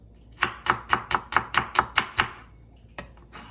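Knife slices a shallot thinly on a cutting board, nine quick even chops in a steady rhythm, close and crisp, then a pause and two more cuts.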